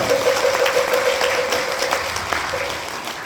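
Audience at a Buddhist missionary corps rally applauds to welcome a monk, a dense, steady wash of clapping that holds loud throughout with a faint tone running beneath it.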